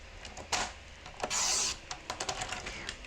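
A paper trimmer slices a sheet of cardstock down to 8 by 8 inches, with a quick scraping swish of the blade among light tapping and handling noises close by.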